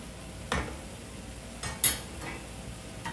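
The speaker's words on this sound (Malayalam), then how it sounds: "ഞാൻ ഇളക്കി വെക്കാം." Spoon stirring Kerala-style stir-fried beans (payar thoran) in a pan, a few scattered scraping clinks against the metal, sparse and close, with quiet gaps between strokes.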